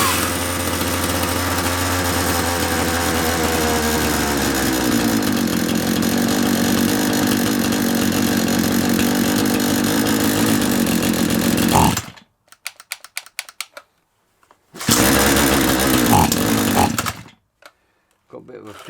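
A small handy chainsaw with a fuel suction fault runs loud and close, its engine droning steadily before the revs sag and it cuts out, then sputters back briefly in uneven bursts and dies again.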